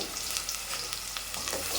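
Steady crackling sizzle of onions frying in hot oil, with small popping bursts throughout, close and fairly quiet.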